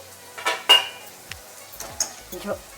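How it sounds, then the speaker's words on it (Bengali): A metal lid is lifted off a cooking pot of Bengali rohu fish curry with bitter gourd, a sharp clink followed by a few lighter metallic taps and scrapes, close and clear. "চাপাটা আমি তুলে নিচ্ছি।"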